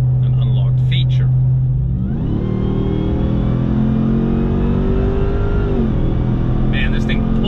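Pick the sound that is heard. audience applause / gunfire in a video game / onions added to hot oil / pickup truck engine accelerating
pickup truck engine accelerating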